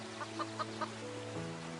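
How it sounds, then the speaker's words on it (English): A hurt chicken's sound effect in a gacha animation gives four short, soft clucks in an even rhythm over a steady background hum. "there's a hurt chicken. Okay, and it's making sounds in the sound effects"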